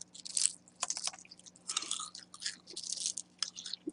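Close, crisp crunching of someone chewing cilantro-lime kale chips, in irregular bursts with brief pauses between bites.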